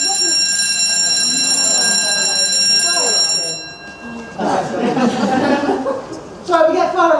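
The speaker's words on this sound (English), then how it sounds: "sorry, we get fire alarms all the time and they don't mean it." A fire alarm rings in a lecture hall with a steady, high, shrill electronic tone for several seconds, then stops abruptly, followed by people talking and laughing.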